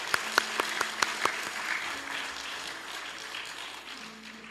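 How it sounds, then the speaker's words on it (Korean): Applause from a church congregation at a Sunday service, opening with a few sharp, distinct claps that swell into sustained, dense clapping filling the room, heard alone without voices. "하나님 앞에 영광의 박수 올려드리겠습니다"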